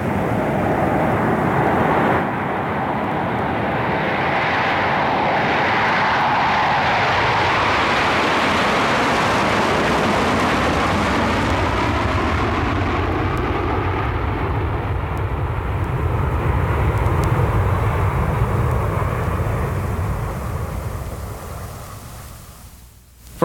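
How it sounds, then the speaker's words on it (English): Jet airliner in flight, reproduced as a stereo record sound effect: a loud, steady broadband roar that swells and shifts in pitch over about twenty seconds before fading at the end, with no voices. "Join me at the airport for a jet flight."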